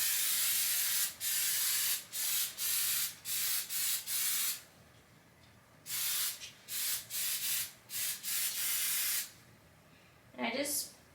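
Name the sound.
Lysol disinfectant spray used against flies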